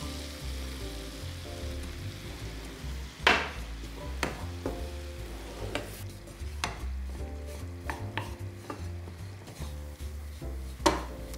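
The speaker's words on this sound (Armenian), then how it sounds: "Հալեցրած կարակով տապակում ենք ալյուր։" Flour frying in melted butter in a pan while chicken breast in pastry is being prepared, giving a steady low sizzle with occasional sharp clinks and scrapes of a utensil against the pan.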